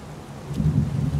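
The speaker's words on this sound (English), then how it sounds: "It's pouring rain." Heavy rain with a low rumble of thunder in the video game Heavy Rain, a steady wash of downpour swelling slightly as the rumble builds, with no speech.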